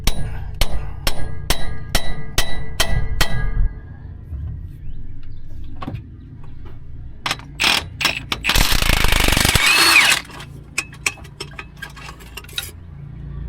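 Impact wrench driving a 5/8 socket onto a bolt on a Mack truck: a run of sharp, evenly spaced rattling bursts, then a longer loud buzzing burst, with scattered metallic clanks in between.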